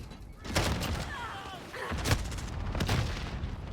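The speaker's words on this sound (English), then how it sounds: "Enemy precision airstrike. Take cover." Enemy precision airstrike in a Call of Duty hardcore multiplayer match: several heavy explosive booms and thuds rumble across the clip, with bursts of gunfire-like cracks and faint voice chatter mixed in.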